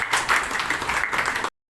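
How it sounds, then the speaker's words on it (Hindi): An audience at a live contest event in Karnal applauds, dense loud clapping that fills the room steadily for about a second and a half before cutting off. "तो जोरदार तालियां इधर ही लाइव करनाल में"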